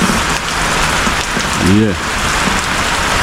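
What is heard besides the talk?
heavy rain falling on zinc roofing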